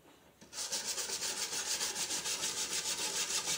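Caked grass is scraped and scrubbed off a lawn mower blade in fast, rhythmic back-and-forth strokes, close and loud, starting after a brief quiet moment and continuing steadily.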